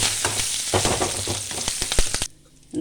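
Mustard seeds and curry leaves crackle and sizzle in hot oil for a tempering, a loud dense frying hiss with rapid popping bursts that drops away abruptly near the end.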